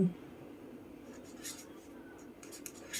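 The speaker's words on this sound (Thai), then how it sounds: "เดี๋ยวเจแดงขอเวลาเขียนนิดนึงค่ะ" Faint pen scratching on paper as someone writes lottery numbers, soft and intermittent, with a few brief louder strokes near the end.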